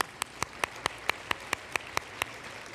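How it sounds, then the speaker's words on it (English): At a women's awards gala, about a dozen crisp claps ring out one by one at a steady, even beat, like a single pair of hands, over a low room hush. "I just want to give another round of applause."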